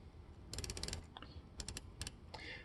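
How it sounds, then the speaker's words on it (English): Quick runs of small, crisp mechanical clicks, close and quiet, come in short bursts with pauses between, as the 120-click unidirectional bezel of a Casio Edifice EFV-120DB watch is turned. "It is a 120 click unidirectional bezel."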